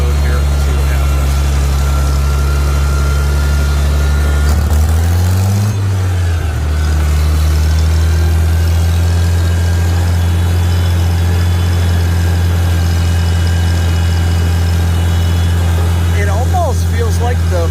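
Farmall 756 tractor engine running steadily while driving up a road, a loud, deep continuous drone with a brief dip in pitch partway through before settling back to a constant rumble.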